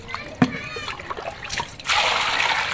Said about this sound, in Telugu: సో ఉప్పు వేసి నీట్గా కడిగి 2 టైమ్స్ దాకా క్లీన్ చేసుకోండి